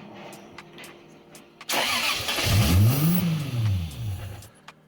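A turbocharged Lexus IS300 engine fires on its first start, cranking briefly then catching with a loud rising rev that swells and settles, heard close up with no talk.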